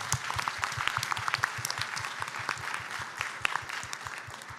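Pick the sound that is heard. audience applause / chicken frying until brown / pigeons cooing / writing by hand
audience applause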